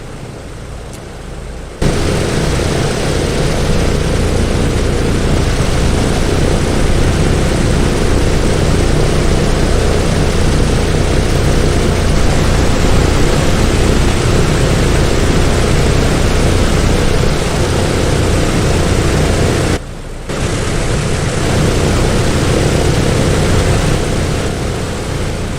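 A DC-6 piston engine starts up in Microsoft Flight Simulator, a loud, dense propeller roar that kicks in after a short pause, drones steadily, cuts out briefly near the end, then resumes.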